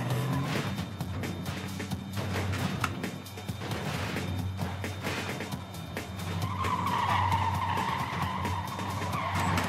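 Trucks skidding on ice in the video game Clustertruck: a steady, loud engine and tire-skid roar runs throughout, with a rising squealing whine near the end.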